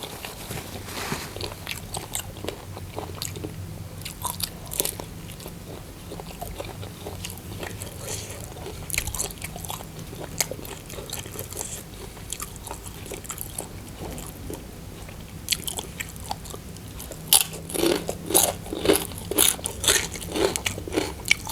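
Crunchy pork rinds and crispy fried pork sausage being bitten and chewed close to the microphone, a run of sharp crunches and chewing that grows louder and denser toward the end.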